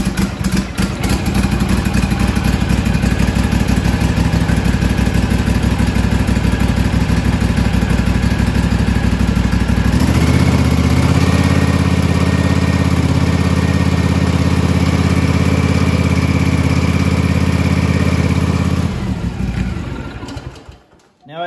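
Husqvarna Z254 zero-turn mower engine running at idle after a start, a loud, steady clattering drone that shifts in tone partway through and cuts off at the end.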